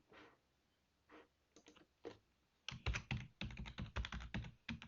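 Someone types a password on a computer keyboard: a few scattered, sparse key clicks at first, then a quicker, denser run of close, crisp taps toward the end.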